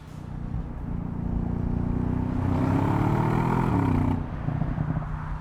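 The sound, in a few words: 2016 Audi S6 V8 engine accelerating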